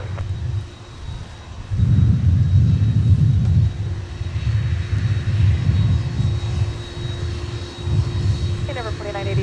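Delta heavy jet airliner taking off at Minneapolis airport in cold, gusty weather, a loud steady engine roar and rumble that swells and holds throughout, with a radio voice heard faintly underneath.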